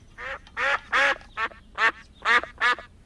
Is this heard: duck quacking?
yes